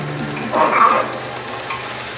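Beans, carrot and potato are stir-fried in a pan, a close, moderate sizzle under a brief swell of scraping as a spatula turns the vegetables, then settling back to steady frying.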